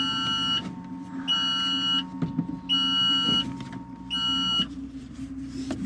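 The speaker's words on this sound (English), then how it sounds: "Hopefully that's one of the last times you got to hear that beep." Warning beep inside an electric Tesla-powered Vanagon during a shakedown drive after a power steering motor install: four loud, evenly spaced electronic tone bursts ring out over a low running hum, with no talk.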